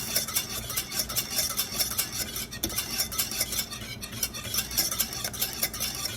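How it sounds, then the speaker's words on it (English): A utensil steadily stirs a thickening caramel-like apple dessert sauce, made with flour, in a pan: continuous scraping and clinking against the metal, with a faint sizzle beneath and no voices. "So constant stirring."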